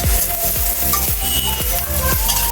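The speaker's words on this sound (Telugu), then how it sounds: "ఈ ఆనియన్స్ గోల్డెన్ బ్రౌన్ వచ్చేంత వరకు వేయించుకోవాలి." Onions fry in a pan until golden brown, a loud, continuous sizzle heard up close. A spatula stirs them in regular strokes about twice a second, and nobody speaks.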